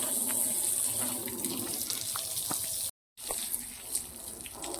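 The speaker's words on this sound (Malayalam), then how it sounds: "വെള്ളം ഒഴിച്ചാൽ സോപ്പെല്ലാം കളഞ്ഞ് ചെളിയെല്ലാം പോകും." Water pours and splashes steadily over a soapy auto-rickshaw during a wash, rinsing off suds and mud in a close, continuous gush, with a short gap of silence midway.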